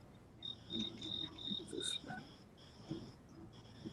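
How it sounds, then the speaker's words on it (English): Crickets chirp in short, rhythmic pulses, fairly faint and close, with some soft indistinct background noise. "I heard crickets"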